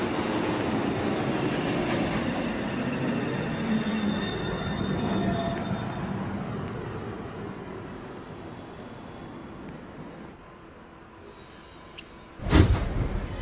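A local 1 train on the NYC subway approaches a station platform, its wheels and cars rumbling and rattling steadily before fading, followed by a sharp clank near the end.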